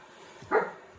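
One short, fairly close dog bark breaks through a quiet indoor room, with no one speaking around it.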